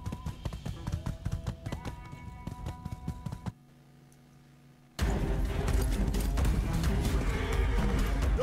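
Rapid clip-clop of horse hooves with tapping in the video game My Time at Sandrock, a short quiet gap, then a louder burst of galloping noise and rough rumble.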